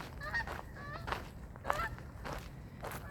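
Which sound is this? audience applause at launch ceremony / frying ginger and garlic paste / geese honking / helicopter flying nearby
geese honking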